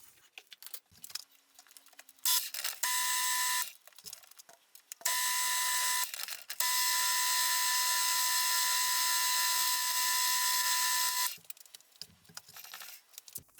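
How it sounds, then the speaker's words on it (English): A metal lathe cuts M20 by 1.5 threads on an oil filter bracket, giving short whining bursts and then one long, steady high-pitched run before the machine drops back to quiet shop noise. "Now at this point I can now start to cut the threads"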